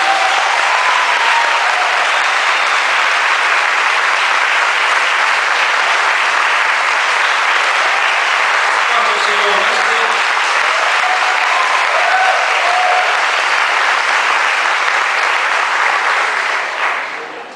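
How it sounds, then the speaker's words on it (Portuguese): A church congregation at a pastors' ordination service applauds loudly and continuously, a thick wash of clapping with faint voices and cheers beneath, tapering off at the very end. "Vamos dar um aplauso bem forte aí"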